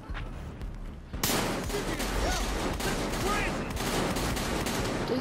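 Heavy sustained gunfire from Battlefield Hardline, a dense loud barrage of overlapping shots that starts abruptly after a quieter opening and keeps up steadily to the end.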